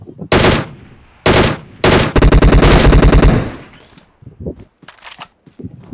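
Loud bursts of automatic gunfire from a PUBG Mobile match, two short volleys then a long rapid stream of shots, followed by scattered quieter single shots and thumps.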